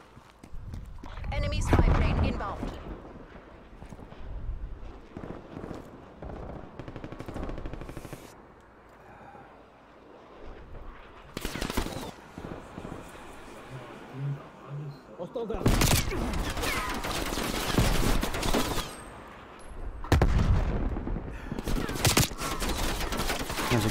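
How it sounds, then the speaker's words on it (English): Gunfire in a Black Ops Cold War Domination match on Garrison, bursts of automatic fire and bangs in clusters, fairly close, mixed with game ambience while a person talks over it. "There's a guy shooting at me."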